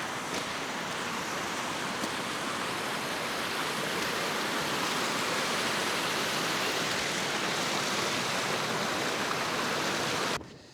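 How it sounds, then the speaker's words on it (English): Wind roars steadily on a mountain in the Lake District near Helvellyn, a loud, broad rushing of air that fills the whole stretch without pause before cutting off abruptly at the end. "Getting quite breezy."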